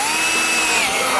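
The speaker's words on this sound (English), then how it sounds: "I'm just going to drill another hole in the side of the bucket here" Power drill boring a hole through the side of a plastic bucket, a loud, close, continuous high-pitched whine with the motor pitch shifting slightly as the bit cuts.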